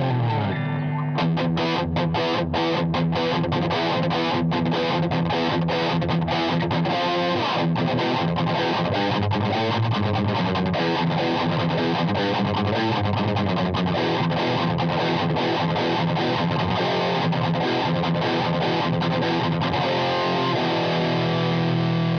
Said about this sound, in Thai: คราวนี้จะเป็นเสียงแตก